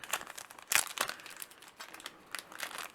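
Yu-Gi-Oh! booster pack packaging being unwrapped, with close, loud crinkling and tearing of foil wrapper in several bursts, no voices.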